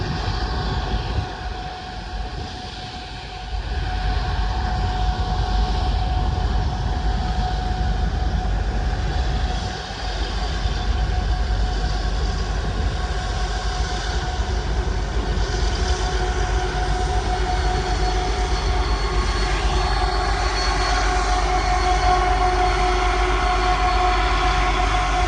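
Union Pacific manifest freight train climbing Cajon Pass behind a big SD70 locomotive, a loud sustained diesel engine drone with steady tonal hum and rumbling wheels throughout, unbroken and without speech.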